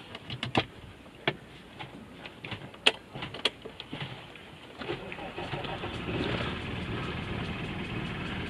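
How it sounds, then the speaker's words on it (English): A boat engine is started after a few scattered clicks and knocks, then catches and settles into a low, steady idle that continues to the end. "the next thing you want to do is you want to fire up your engine."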